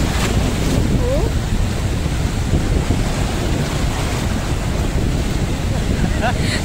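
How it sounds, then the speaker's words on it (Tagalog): Large sea waves wash and roll continuously at Calatagan while strong wind buffets the microphone, a loud, steady roar with no break. "Lulaki ng alon, oh."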